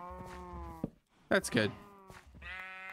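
Sheep in the Minecraft video game bleat several times in close succession, loud and nasal. Someone talks briefly between the calls.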